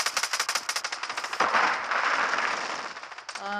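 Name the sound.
gunfire in Call of Duty Modern Warfare 3 video game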